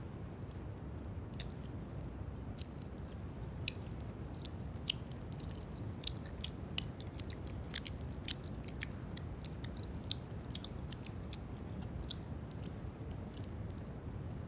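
Gummy candies are chewed and bitten close up in a steady, wet, squishy rhythm, with frequent small sticky clicks and smacks throughout and no talking.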